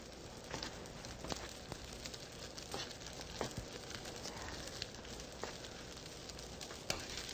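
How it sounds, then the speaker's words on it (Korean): Spinach stir-frying with hot rice in a pan, a quiet steady sizzle with light crackles and occasional scraping ticks, close and soft. "밥이 뜨거워지면 시금치를 넣어주세요."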